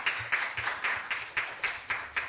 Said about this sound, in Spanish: un aplauso de partida para la profesora Casas